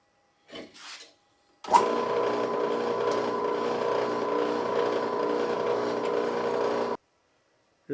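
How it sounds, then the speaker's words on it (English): A power drill bores a hole in a solar project panel to take a rivet nut, a steady whining grind lasting about five seconds before cutting off abruptly, preceded by brief handling noises. "But I'm going to drill this hole and get this riv nut installed."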